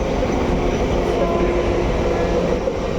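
A train rumbles steadily along the tracks, a constant loud roar heard from inside a carriage.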